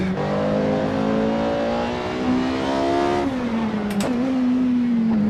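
Supercar engine in the Assetto Corsa racing game accelerating hard on a track, a loud steady rising drone that drops briefly at a gear change near the midpoint and again shortly after, then climbs once more, with no talk.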